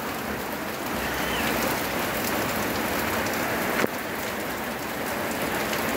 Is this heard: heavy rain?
yes